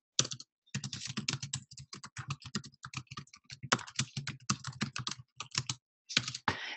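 Rapid typing on a computer keyboard, a steady run of crisp key clicks in bursts with brief pauses, close and clear with no voices.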